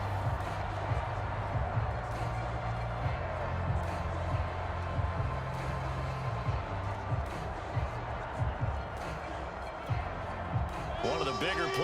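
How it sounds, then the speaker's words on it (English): The crowd roars in a Madden NFL 22 football game between the Cleveland Browns and Pittsburgh Steelers, a steady broad stadium din with thumps underneath, while commentators talk over it. "the crowd getting into it as we come up on a big 3rd down"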